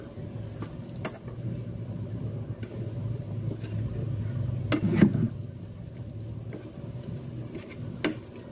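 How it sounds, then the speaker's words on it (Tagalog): Seasoned pork bistek sizzles steadily in a pan as it is stirred, with occasional sharp scrapes and clinks of a utensil against the pan over a low frying hiss. "Halo-haloin ko muna."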